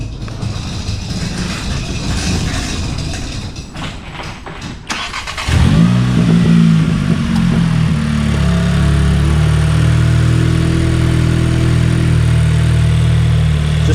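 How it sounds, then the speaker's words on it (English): A Volkswagen MK7.5 GLI engine with an aftermarket turbo inlet pipe cranks and catches around the midpoint, then settles into a loud, steady idle with a deep rumble and faint whooshing turbo intake. "starting up the car"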